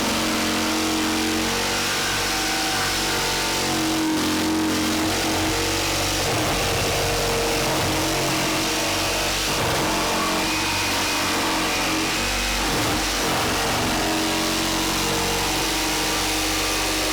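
A Ryobi 18-volt cordless brushless jig saw cutting continuously, a loud, steady buzzing motor whine with a rasping blade that holds for the full stretch with slight shifts in pitch and no pauses.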